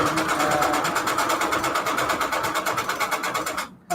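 A domestic sewing machine stitches fabric at a 3.5 stitch length, a fast, even, close mechanical chatter with a steady rhythm that runs for several seconds, then cuts off abruptly before a brief final burst.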